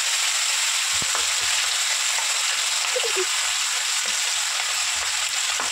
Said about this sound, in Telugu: ఇవన్నీ బాగా ఫ్రై అవుతుంది కదా